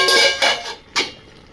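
A lid goes onto a cooking pot in a home kitchen: a loud close clatter with a brief metallic ring, followed by a second sharp clink, with no speech.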